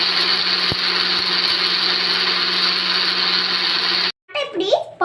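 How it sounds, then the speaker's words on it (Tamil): Electric mixer grinder whirring loudly and steadily as it powders roasted dry ginger and coriander seeds for coffee powder, then cutting off abruptly near the end, followed by brief speech. "இப்போ வறுத்த எல்லாத்தையும் நான் மிக்ஸி ஜாரில் போட்டு இதை வந்துட்டு நம்ம பவுடர் பண்ணி எடுத்துக்கலாம்."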